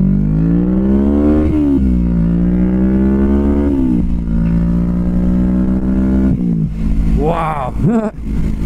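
Kawasaki Vulcan S 650 Cafe ABS with its Ninja-derived parallel-twin engine pulling hard through the gears, loud close engine note rising and dropping with each shift, with wind rush and a brief spoken exclamation near the end.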